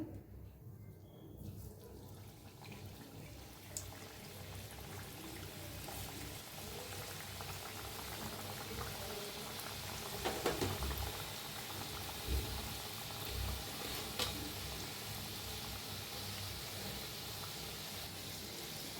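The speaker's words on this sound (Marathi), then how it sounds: "तेल बी चांगलं गरम झालंय तर तळून घेऊया मोदक आपण" Modak deep-fry in hot oil, a continuous bubbling, boiling hiss that stays fairly faint and even throughout, with a few soft knocks and clinks now and then.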